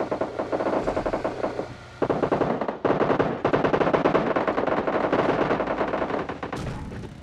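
Rapid gunfire in the mobile battle-royale game PUBG Mobile Lite, dense bursts of automatic shots running nearly continuously and loud, with brief pauses between volleys.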